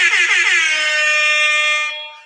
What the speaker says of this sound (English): What have we been doing in our lives without this air horn?